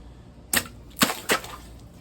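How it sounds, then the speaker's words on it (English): A Work Tuff Gear Kodiak large knife pushing and chopping through a plastic bottle gives three sharp, crackling bursts spaced about half a second apart, fairly close and otherwise quiet. "So let's just see if we can push cut this bottle."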